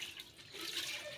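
Running water at a sink while dishes are scrubbed by hand, a steady close splashing hiss with small clinks and drips, fairly faint and alone.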